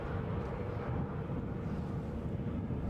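An easyJet airliner vacates the runway at Edinburgh airport as a low, steady jet engine rumble heard from a distance. The noise is broad and even, blurred by wind on the microphone.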